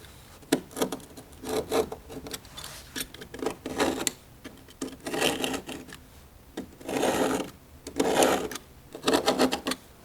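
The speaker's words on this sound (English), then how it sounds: "So I'm using a controlled motion to scrape this grout out." A hand-held blade scrapes grout from between tiles on a Schluter foam shower pan, making a series of short, rasping, rhythmic strokes in bursts with brief pauses, close and fairly quiet, with no talking.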